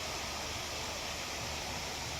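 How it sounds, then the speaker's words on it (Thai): A waterfall at Sampran Riverside garden in Thailand, where visitors wade through the stream, gives a steady, broad rushing roar of falling water, constant and fairly loud throughout with no voices. "นี่น้ำตก"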